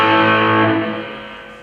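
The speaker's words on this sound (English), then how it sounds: "But this is a pro reverb, 70s pro reverb." An electric guitar plays a sustained, overdriven chord through a 1970s Fender Pro Reverb amp with the input gain turned up and the bass off. The chord rings loud and alone, then slowly fades.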